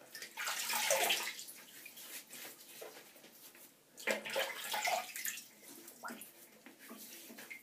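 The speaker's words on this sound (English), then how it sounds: "And now let me just wet my face." Water from a tap splashes as hands wet a face before shaving, two close bursts of splashing and running water with pauses between, loud and alone.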